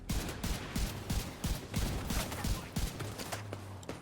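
Gunfire in The Division 2 video game, a continuous barrage of rapid shots with sharp repeated bursts, moderately loud and steady throughout.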